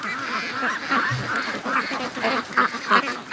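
A flock of free-range ducks quacks steadily on a walk down to a lake, a dense overlapping run of nasal calls close by with no talk over them.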